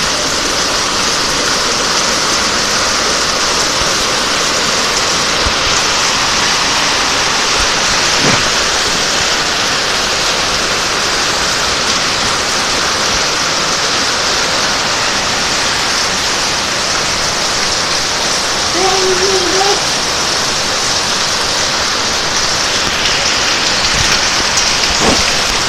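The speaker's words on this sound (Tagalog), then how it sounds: "Malakas palang bagyo dito sa amin." Heavy rain during a storm pours down in a loud, dense, unbroken roar of drops drumming on surfaces, with faint distant rumbles under it.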